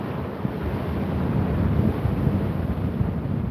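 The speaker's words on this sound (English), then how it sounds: "Always watching these waves." Ocean surf rolls in at sunrise with strong wind buffeting the microphone, making a continuous close roar of breaking waves and gusts. No voices are heard.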